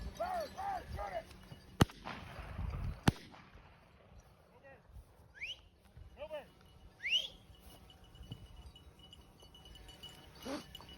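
Two sharp 12-gauge shotgun blasts, a second or so apart, fired at a pheasant on a Michigan hunt, heard amid shouting voices and faint bird calls outdoors.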